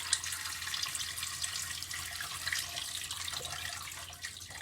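Water poured from a tap into a pot of drained orange marmalade peel, a steady hissing splash running continuously for several seconds.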